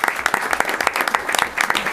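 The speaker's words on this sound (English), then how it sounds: "Give her a round of applause." Applause at a school district board meeting as a student athlete is honored, a dense steady clapping from the room lasting the full two seconds with sharp individual claps standing out.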